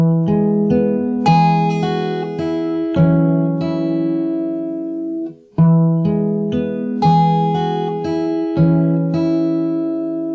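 Fingerstyle acoustic guitar plays a song, plucked notes and chords ringing in steady repeating phrases, close and clear, with a short pause midway before the pattern resumes.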